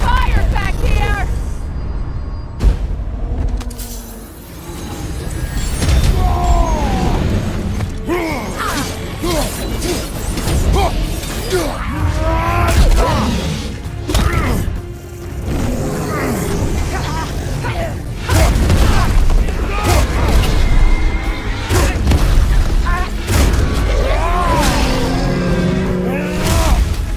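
Incoming fire and explosions rumble through a battle in God of War Ragnarök, with loud continuous booms, crashes and impacts, while in-game voices shout over the dense din.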